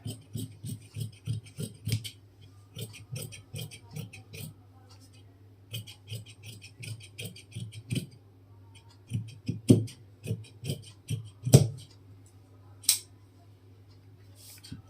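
Scissors snipping through fabric for a ladies' blazer panel, a steady run of close, crisp cuts repeating in quick rhythm, with a few sharper louder snips near the end.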